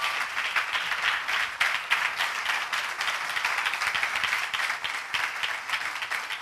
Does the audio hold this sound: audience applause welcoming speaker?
yes